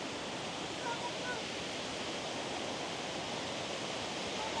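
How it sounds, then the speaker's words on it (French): Small waterfalls in a park rush in a steady broadband roar, continuous and fairly faint, with no clear voices over the flow. "on passe devant les petites cascades"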